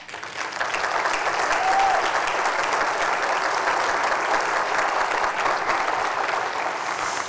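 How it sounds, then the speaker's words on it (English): A large audience claps for city department administrators at a State of the City address, applause swelling quickly and holding at a dense, steady level for several seconds. "Please, administrators, stand for a round of applause."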